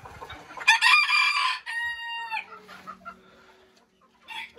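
A Belgian porcelain bantam hen clucks and squawks up close, a loud burst of cackling followed by drawn-out tonal calls that fade to quiet, then a short final cluck.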